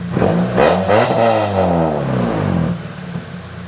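A 1996 Honda Accord engine running a chipped P28 ECU gives two quick revs from a slightly rough idle, then settles back to a steady, moderately loud idle, close up and with no talk.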